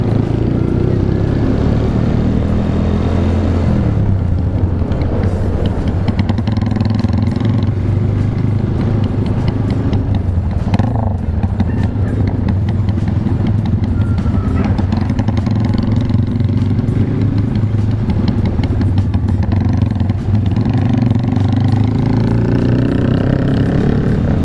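A motorcycle with a front wheel in poor condition rides along a busy road, its engine droning steadily and loudly under heavy wind rush, with traffic noise around it.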